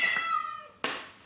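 A pet cat gives one clear, rising-and-falling meow close by, followed by a sharp click or tap near the end, in a quiet room.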